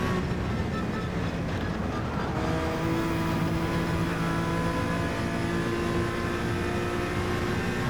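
A Honda NSX GT3 race car engine in Gran Turismo 7 drones steadily and loudly throughout, holding a sustained tone with no pauses and no talk.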